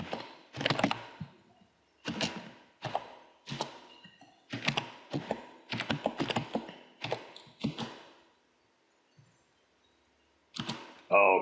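Someone types a telnet command to a network switch on a computer keyboard, in short rapid bursts of sharp, close key clicks separated by brief pauses, with a quiet gap before a final burst.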